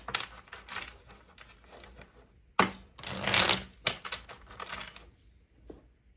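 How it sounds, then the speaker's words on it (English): Tarot cards are shuffled by hand in several quick riffled bursts with soft papery flutters and taps, close and alone with no talking. "Three shuffles for Pisces."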